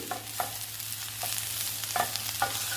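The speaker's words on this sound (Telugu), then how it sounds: "ఇప్పుడు అల్లం వెల్లుల్లి పేస్ట్ని కూడా ఫ్రై చేసుకుందాము." Ginger garlic paste frying in a pan for an ivy gourd fry, a soft continuous sizzle with a few light scraping stirs, close but fairly quiet.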